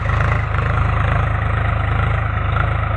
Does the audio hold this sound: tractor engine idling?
yes